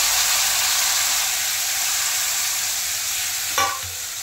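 Ingredients for a raw mango pickle hit hot oil with mustard seeds and cumin, giving a loud, steady, close sizzling hiss, then a brief knock near the end.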